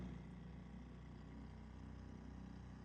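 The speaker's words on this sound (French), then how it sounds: "c'est une petite barque à moteur" A small motorboat engine drones steadily and faintly on a lagoon, a low continuous hum with no voices.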